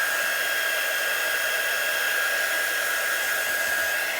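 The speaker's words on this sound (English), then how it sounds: "now I'm going to dry this with my quick dry tool" A quick dry heat tool blowing over a papercraft project, a steady, loud, even whoosh with a high whine that holds unbroken from start to finish.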